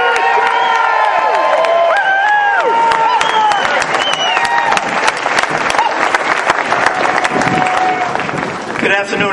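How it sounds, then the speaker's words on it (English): Crowd at an anti in-state tuition rally applauds and cheers loudly and steadily, with whoops and shouting rising over continuous clapping, nearby and dense throughout. "A big round of applause."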